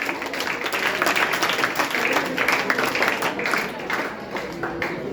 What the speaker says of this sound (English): Let's welcome Surendra, Harsha and Sangeet with a big round of applause.